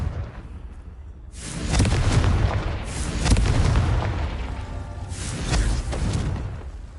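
Confringo explosive spell bursts in Hogwarts Legacy, several loud booming blasts following one another, with a rumbling low-end roar that swells and fades between impacts.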